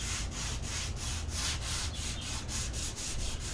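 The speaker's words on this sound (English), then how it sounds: "this is 120 grit sandpaper, little sanding block" A small hand sanding block with 120 grit sandpaper rubs over a painted wood surface in quick, regular back-and-forth strokes, close and steady with no talking.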